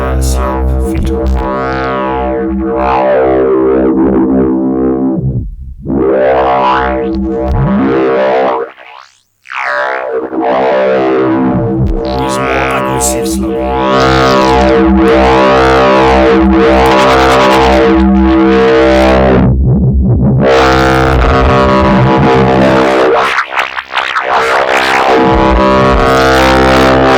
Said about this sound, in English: And now use it as a mono 24 slope filter.